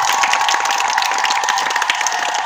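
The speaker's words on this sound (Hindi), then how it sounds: "लड़कियों के लिए ताली बजाई जाए" An audience claps for the girls at an Independence Day gathering, continuous dense applause from a crowd, loud and close, with a steady tone running underneath.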